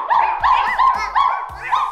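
A dog barks five times in quick, evenly spaced succession, close and loud, with no talking.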